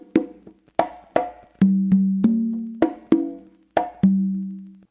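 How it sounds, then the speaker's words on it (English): Tumba conga open tones restart a Matanzas guaguanco pattern, ringing sustained low notes mixed with sharper slaps and muffled strokes, played close and unaccompanied in a steady rhythm. "you go back to your 2 opens on your tumba to start the whole pattern again"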